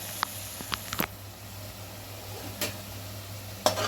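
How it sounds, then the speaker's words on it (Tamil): Chopped onions sautéed in chicken gravy: a steady, soft sizzle runs throughout, with a few sharp clicks and scrapes from a spoon against the pan, close up and with no talking. "இந்த வெங்காயத்தையும் நல்லா அதோடு சேர்த்து கொஞ்ச நேரம் வதக்குங்க"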